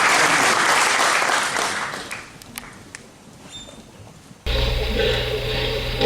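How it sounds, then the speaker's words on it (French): Audience applause at a France–Africa economic summit conference in Paris, a dense crowd clapping that fades into scattered claps around the middle before a sudden cut to a louder, steadier room sound. "Je vous demande d'applaudir"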